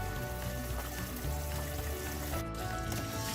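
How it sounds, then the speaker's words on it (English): Tamarind pulp bubbles and sizzles steadily in a pan as it cooks for a lentil sambar, a close, continuous crackling hiss with no voices. "We're going to bubble this for about a minute or two to cook the tamarind"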